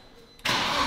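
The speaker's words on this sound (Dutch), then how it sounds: "Een lichte ratel in die motor, maar ja, een lichte hik wel" A manual car's engine catching and starting after a quiet moment, jumping abruptly to a loud, close, steady running roar with a slight rattle.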